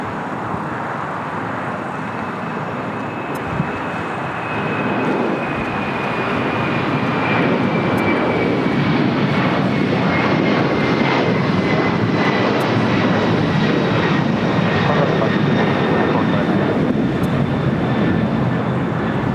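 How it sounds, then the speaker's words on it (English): A Boeing 767-300ER jet takes off at LAX, a steady, heavy engine roar that builds after a few seconds and holds loud and close, with a thin descending whine running through it. "That is Latam Airlines 2479 taking off to Lima on a 767 300ER."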